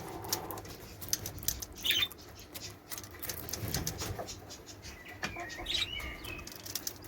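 Pigeons on a smallholding farm give soft coos and bursts of flapping wings, with a couple of brief sharp chirps over a busy, rustling background; nobody speaks.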